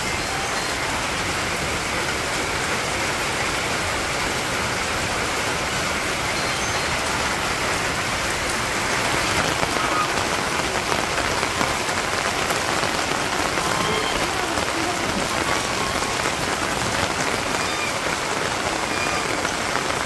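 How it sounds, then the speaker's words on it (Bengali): Steady rain pours down on a rural village yard, a dense continuous patter on surfaces that swells slightly louder partway through, with no voices heard. "দেখেন কি সুন্দর বৃষ্টি হয়েছে"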